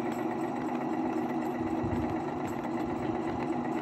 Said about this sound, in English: you can hear the engine slowed down to match what's happened